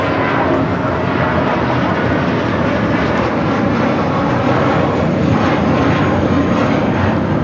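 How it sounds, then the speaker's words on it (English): A Viva Aerobus Airbus A321 in a special livery takes off from LAX bound for Monterrey, its jet engines giving a loud, steady, broadband roar that fills the whole stretch. "Viva Airbus 623 taking off to Monterrey, Mexico on the A321, the Juan Gabriel livery"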